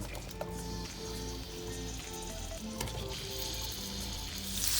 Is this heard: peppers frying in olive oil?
yes